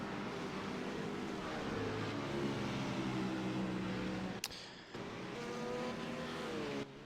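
Race car engine in the iRacing sim at Silverstone, a continuous loud high-revving drone with shifting pitch as gears change, one brief sharp break midway, no talk over it.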